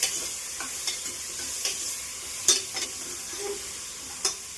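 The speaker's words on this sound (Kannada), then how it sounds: "ಹಾಕಿ ಜಾಸ್ತಿ ಫ್ರೈ ಏನು ಬೇಡ, ಸುಮ್ಮನೆ ಅರ್ಧ ಫ್ರೈ ಮಾಡಿಕೊಂಡು" Vegetables with turmeric half-frying in a cooker for vegetable pulav, a steady quiet sizzle broken by occasional spoon scrapes and stirs against the pan, with no talk.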